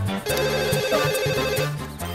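A steady electronic telephone line tone, heard when a call does not go through in a Telugu comedy scene, sounds continuously with a slight warble over rhythmic background music and deep thumping beats.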